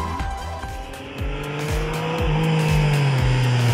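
A Yamaha Tracer MT-09 with an 850cc three-cylinder engine accelerates hard through the gears. Revs climb and drop repeatedly at each shift, loud and close, with no talking.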